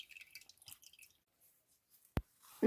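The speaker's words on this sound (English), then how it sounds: "look at the quantity of water that is coming out from the cassava paste" Water squeezed from cassava paste falls in faint, scattered drips and soft splashes, ending with one sharp, distinct drop and a louder splash.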